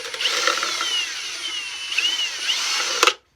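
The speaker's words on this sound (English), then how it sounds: "drill it all the way through." A power drill with a long 1/8 inch bit runs all the way through a wooden mounting block for a cigar box guitar, a sustained close whine with wavering pitch and a final clunk as it breaks through and stops.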